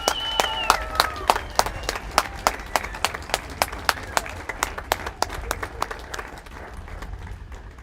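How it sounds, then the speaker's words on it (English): Applause rings out at a high school commencement for graduating award recipients, with sharp individual claps standing out over a steady crowd patter and a brief voice near the start, fading slightly toward the end. "Give them a big round of applause."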